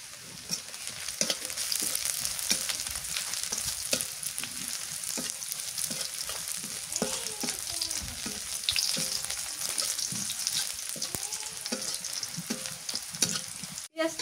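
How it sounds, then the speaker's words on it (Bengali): Onions fry until reddish-brown in a pan before broiler chicken goes in. A steady close sizzle runs throughout, broken by frequent scraping stirs and small clinks, and no one speaks. "পেঁয়াজটা লাল লাল করে ভাজা হয়ে গেছে এবার মাংস দিয়ে দিই"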